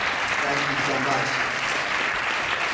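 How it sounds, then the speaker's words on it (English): Applause from the audience at a jazz big band concert, a dense continuous wash of clapping that holds steady and loud throughout with a faint trace of voices beneath it. "Give yourselves a round of applause for helping us do this music well."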